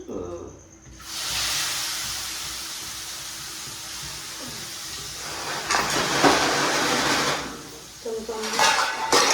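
Onion gravy hits hot oil seasoned with mustard seeds and hing, setting off a loud, steady hiss that sizzles on for several seconds before easing off, with a few clanks and voices in the background.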